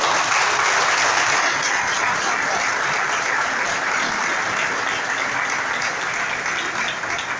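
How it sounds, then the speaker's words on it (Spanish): A crowd applauds at a PRI political event in Reynosa, with loud, sustained, even clapping that continues for several seconds and eases off only slightly toward the end. "Les pido un aplauso, por favor"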